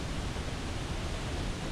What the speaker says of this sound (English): I'll just let you listen to that rushing water.